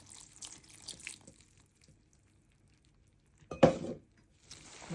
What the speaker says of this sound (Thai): แล้วก็เติมน้ำลงไปค่ะ ค่อยๆเติมลงไปค่ะ